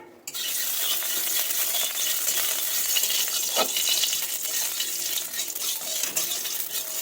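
Mustard oil heats in a pan for a spicy poppy-seed dish, giving a steady, fairly loud broadband sizzle that hisses continuously with one brief scrape partway through and no voices.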